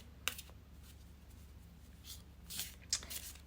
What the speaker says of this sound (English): let's take out our next oracle deck and again shuffle with intention